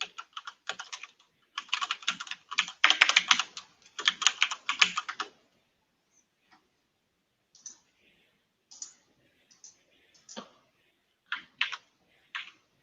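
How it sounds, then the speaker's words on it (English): Fast bursts of typing on a computer keyboard at close range, dense clicking for about five seconds, then scattered sparse keystrokes and pauses, quiet and with no talking. "Can you see what I'm typing?"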